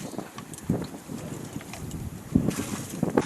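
Strong cold wind buffeting the microphone outdoors beside a small fishing boat on the water, a continuous gusty roar with sharper bumps and knocks scattered through, no speech.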